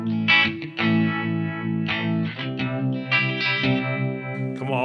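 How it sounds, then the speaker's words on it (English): Guitar chords played through a SolidGold FX Aurras Optical Vibraphase pedal at a fast speed setting, with a rapid, tremolo-like throb over several strums, close and without any voices. "Almost sounds like a tremolo"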